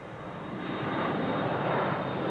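An Embraer 175 jet at Amsterdam Schiphol Airport gives a broad, steady engine roar that builds slightly in loudness over a couple of seconds, heard alone with no voices.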